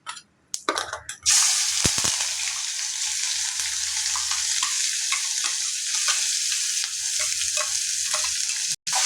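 Curry leaves and a prepared paneer masala spice mix hit hot oil in a pan, giving a loud, steady sizzle that runs throughout after a few scrapes and clatters at the start.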